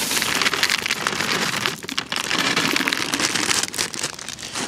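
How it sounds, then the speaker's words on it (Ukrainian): Dry corn pellets poured into damp fishing groundbait for flat feeder fishing, a dense continuous rattling patter of many small grains falling, loud and close, with a short lull midway and no speech. "додамо нашу кукурудзу гранулу"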